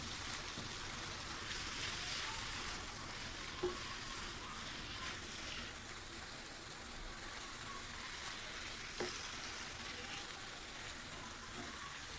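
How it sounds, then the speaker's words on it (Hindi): Sliced onions being stirred into a spiced keema filling for stuffed karela in a frying pan, a soft continuous sizzle with faint scraping, low and steady, with a couple of light clicks of the spoon against the pan. "ये देखिए, मैं प्याज को अच्छे से जो है इसमें मिक्स कर रहा हूँ।"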